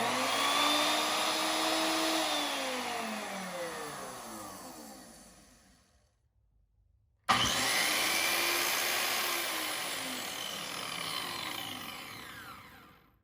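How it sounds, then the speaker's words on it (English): Two circular saws, a worm drive and a rear handle model, run up one after the other, each a loud close whine that winds down slowly into silence before the second starts with a sharp burst. "Listen to the sound of both saws and you'll see what I mean."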